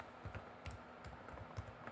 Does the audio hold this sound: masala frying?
no